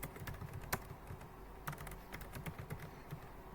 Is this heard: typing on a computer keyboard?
yes